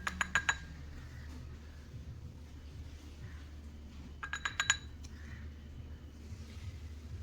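Cumin for a homemade hair remedy is tipped into a bowl in a kitchen, giving two short bursts of light clinks and rattles several seconds apart over a faint background hum.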